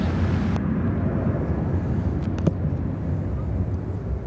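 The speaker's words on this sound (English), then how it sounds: "This is American Eagle, operated by Envoy 3977, taking off to Detroit on the E-170" An American Eagle Embraer E-170 operated by Envoy takes off from Chicago O'Hare, a low, distant rumbling engine roar that holds steady under light wind noise, with a couple of faint clicks.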